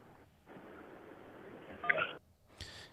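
A telephone rings or beeps in a room during a courtroom proceeding, a short electronic tone burst standing out over low background murmur, followed by a brief higher chirp near the end.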